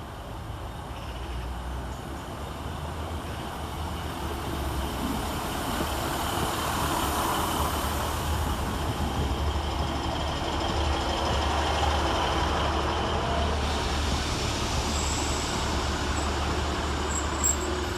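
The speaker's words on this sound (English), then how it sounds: "Arriving to terminate with a Northern service from Clitheroe is" Northern Class 150 diesel unit 150005, arriving from Clitheroe to terminate at Rochdale railway station: a steady, broad rumble that slowly builds in loudness as the train draws in, with faint higher squeals near the end.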